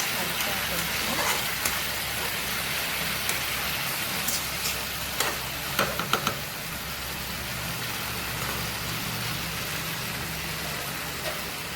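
Fish curry frying and being stirred in a pan, a steady broad sizzle with a few scraping clinks partway through, close and continuous, with a voice talking at times.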